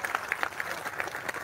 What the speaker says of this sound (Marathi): त्यांचं टाळ्या वाजवून आपण सगळेजण अभिनंदन करा.